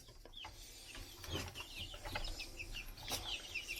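Newly hatched Ixworth chicks in a brooder box give repeated high, thin cheeps in quick overlapping bursts, close by over faint background rustling.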